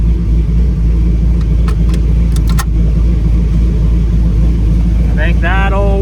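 A 6.0-litre V8 swapped into a Toyota Prius idles with a loud, deep, pulsing rumble close by, broken briefly by sharp clicks and a short squeak near the end.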